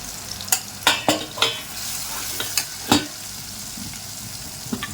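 Ground spice masala of turmeric, Kashmiri red chilli powder, crushed coriander and cumin fries in a pan with a low sizzle, while a spoon scrapes and taps against the pan in irregular close strokes.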